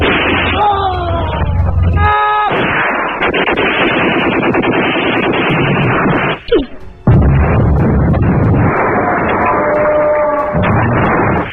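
Gunfire and explosions tear through a war battle scene in an Indonesian film, with rapid dense shots and booming bursts over shouting voices, loud and almost continuous, with a brief pause partway through.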